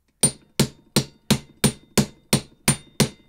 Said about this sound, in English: You're just looking to hammer on the outside.